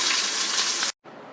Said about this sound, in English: I'm gonna put 3 ounces of water in there